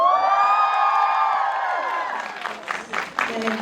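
At a Korean film Q&A screening, a packed audience lets out a loud, high-pitched shout of cheering that holds for about two seconds, then breaks into scattered claps and whoops.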